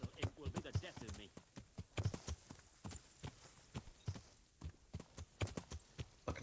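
Horse hooves clip-clop in a steady, quick rhythm throughout in the medieval game Kingdom Come: Deliverance, fairly close and distinct, with a voice speaking over parts of it.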